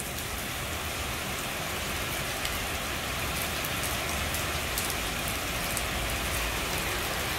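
Steady rain pouring outdoors in Long An, Vietnam, a dense, even hiss of drops on surfaces continuing unbroken throughout, with no voices.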